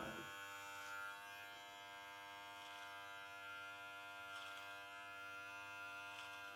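Electric beard trimmer buzzing steadily as it trims a beard line above the cheek, a close, continuous motor hum with slight changes in pitch as it moves over the hair, with no talking.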